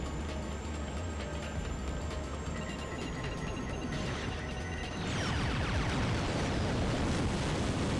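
Rockets blowing up in Ratchet: Gladiator, a sustained rumbling blast noise over constant game machinery hum, growing louder and denser partway through, with no talking.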